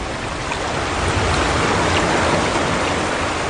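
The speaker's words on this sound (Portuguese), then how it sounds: "a água veio correndo da direção de Edom e cobriu o chão" Water rushes as a loud, dense, continuous roar of flowing water, like a strong stream or flood sweeping over the ground, heard close and alone in a Bible audio drama.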